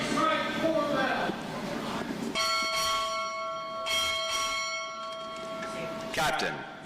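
Ship's bell struck at a U.S. Navy boot camp graduation ceremony, a few clear ringing strikes in pairs that sustain and decay, following an announcer's voice over a large indoor hall.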